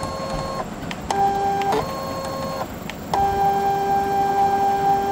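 A Brother ScanNCut cutting machine runs its rollers during a cleaning routine, giving steady whirring motor tones that stop and restart in several segments, close and fairly loud.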